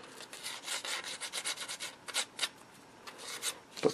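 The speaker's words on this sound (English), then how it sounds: "So, a little bit of light sanding. Remove some slight burrs." Light sanding rubs burrs off the edge of a cut circle during an Admiral T105AL radio restoration, with quick, soft, irregular scratchy strokes, close and quiet.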